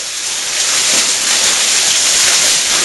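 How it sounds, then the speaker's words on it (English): Water pours down a vertical shaft into Twin Trickles Cave, a marble cave near Bancroft, making a loud, unbroken rushing roar that stays even throughout with no speech. "You see the water pouring down."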